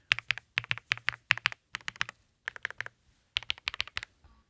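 Rapid mechanical keyboard typing heard up close, a compact 65% board with space bar clicks, bursts of crisp clacky keystrokes in quick runs with short pauses, no voices.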